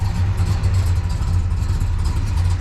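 A 1966 Chevrolet Biscayne L72 engine runs steadily nearby, a deep, loping rumble with a slightly uneven pulse and no talking.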